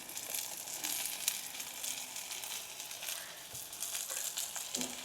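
Shallots, green chillies and dried red chillies fry together for a curry, giving a soft, continuous sizzle with light stirring, quiet and with no talking.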